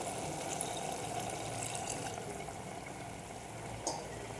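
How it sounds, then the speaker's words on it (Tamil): Water pours into a pan of ridge gourd curry on the stove, a steady close, moderately loud splashing and trickling rush that holds through the clip, with one brief clink of a vessel near the end. "நம்மளுக்கு தேவையான அளவு தண்ணி சேர்த்திக்கிறோம்"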